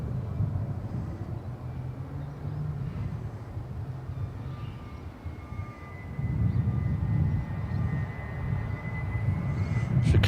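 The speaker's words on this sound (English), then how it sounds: "Dreamliner Dash 10. Just about to drop in." A Boeing 787-10 Dreamliner approaching to land at Adelaide Airport, its engines a steady low roar that swells toward the end, heard from a distance with some faint background voices.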